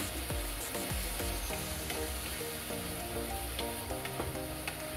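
String beans and Baguio beans being mixed in a hot frying pan, a steady close sizzle with repeated scraping and clinking strokes of the utensil against the pan throughout, no voices.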